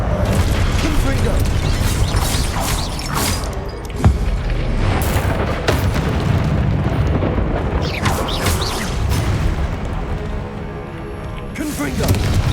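Fire spell explosions in Hogwarts Legacy burst out amid dense combat noise, with loud booms and crackling blasts recurring over about twelve seconds while a voice speaks intermittently.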